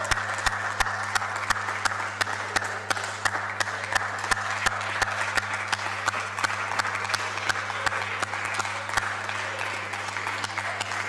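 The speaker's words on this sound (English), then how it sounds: "Let's rise and clap for them." A forum audience at a Tanzania session applauds the panelists, with steady, sustained clapping from many hands, dense and even, over a low constant hum in the hall.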